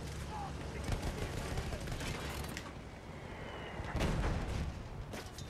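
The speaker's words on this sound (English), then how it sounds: "You see the gunfire, the AA gunfire?" Rapid bursts of anti-aircraft gunfire in Battlefield 1 crackle continuously against a noisy, rumbling background, with a heavier burst of shots near the end.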